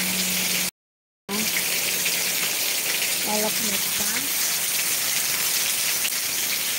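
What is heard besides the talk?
rain falling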